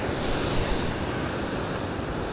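Ocean waves break on a rock ledge during rock fishing, producing a steady, loud wash of surf and spray with wind noise and no voices.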